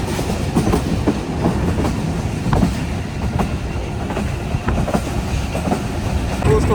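The Thall Express 130 DN, a three-coach passenger train from Rawalpindi to Attock, rolls on with a loud, steady rumble and a rhythmic clickety-clack of wheels over rail joints, with no voices.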